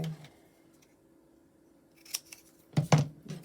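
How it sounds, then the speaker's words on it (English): Scissors snip through cardboard while a shape is cut out for a junk journal craft page, a couple of crisp close cuts arriving near the end after quiet moments. "when I cut the shape out of the cardboard, I'll be able to move it round."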